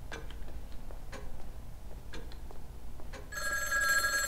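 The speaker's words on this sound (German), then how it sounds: "Und wieder ein Telefon." A clock ticks steadily in a quiet room in the horror game Obscuritas, then a telephone starts ringing loudly with a bright, jangling bell in the last second.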